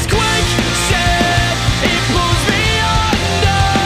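A loud, dense pop punk band excerpt with driving distorted guitars, pounding drums and a thick, compressed full-band sound, playing continuously without any speech.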